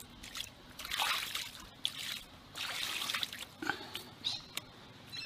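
Cutting board rinsed with salt water after fish cleaning, irregular close trickles and splashes poured in short bursts, quiet and without talk.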